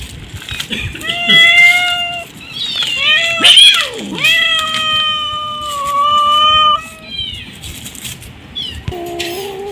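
Several kittens and cats meow repeatedly at close range, a string of high, drawn-out cries with some rising and falling calls overlapping, loud and persistent.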